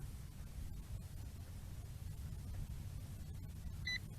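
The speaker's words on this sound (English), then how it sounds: "That's the beep that I want to hear" A brief electronic beep from a drone during compass calibration sounds near the end, sitting over a steady, loud hiss of wind-like noise.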